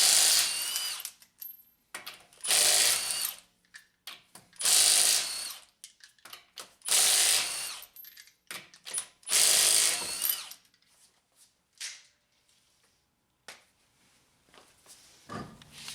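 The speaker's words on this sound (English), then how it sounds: "I'm using an impact wrench." Impact wrench breaking Honda Accord V6 lug nuts loose, several loud bursts of hammering rattle separated by short pauses, close and alone, ending with a few quieter knocks.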